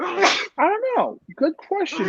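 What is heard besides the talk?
sneeze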